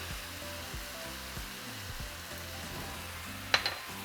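Seasoned ground beef with black pepper, ancho powder, cumin and oregano fries in a pan with a soft, steady sizzle, broken by a sharp clack of a utensil near the end.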